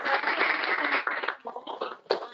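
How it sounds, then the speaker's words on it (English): Applause from a small audience at a salary negotiation workshop, a dense burst of clapping that thins out and tapers over a couple of seconds, with no talk. "I'd like to do a big round of applause"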